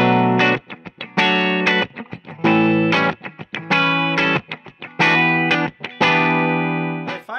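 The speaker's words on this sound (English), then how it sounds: "It's just one pickup, so it sounds like this with everything full on." A 2015 Gibson Les Paul CM electric guitar with a single pickup and its controls turned full up plays loud distorted chords in choppy bursts with short gaps between them, with no talking.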